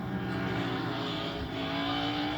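NASCAR Cup Series race cars roar past on track during the final lap of the 2025 Jack Link's 500, a loud continuous engine drone with no talk.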